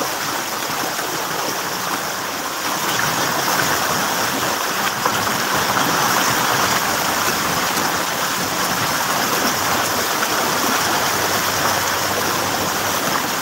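Steady, loud rush of churning floodwater flowing down a street fills the whole stretch, a continuous roaring flow with no pauses and no voices.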